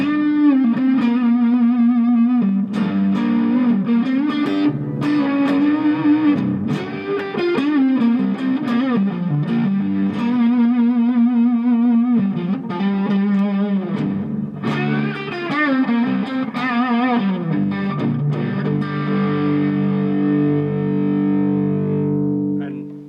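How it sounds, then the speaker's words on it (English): An electric guitar plays through a Gjika Gainmaster tube amp set extremely low, giving sustained, gently distorted chords and single notes that ring together, steady and close throughout. "I'm playing like extremely low. This amp's barely on. I'm sitting here just focusing on the sound of the tube in this."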